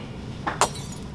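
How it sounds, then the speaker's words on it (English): Glass of a TV screen smashing: a brief sharp crash with a small clink just before it, alone over a quiet room background. "I just smashed my screen"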